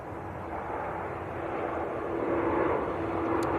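A Ryanair airliner from Budapest at Manchester Airport, a steady mid-distance engine rumble and rush that slowly grows louder over a few seconds.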